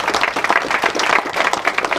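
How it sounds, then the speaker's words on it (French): An audience applauds a cyclist during a presentation of the Avenir Cycliste Touraine riders, a dense, steady patter of many hands clapping close by with no voices over it. "Allez, on l'applaudit bien fort."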